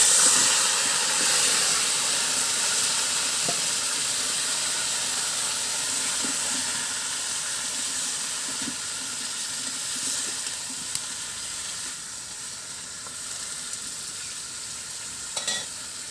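Washed vegetables dropped into a hot pan hiss and sizzle steadily, a broad continuous frying sound close up that slowly fades a little, with faint clinks of stirring.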